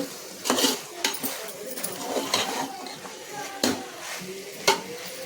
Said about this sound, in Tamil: ஸோ அதனால் கொஞ்சம் நல்லா மிக்ஸ் பண்ணிப்போம் மசாலாவோட ஊறுற அளவுக்கு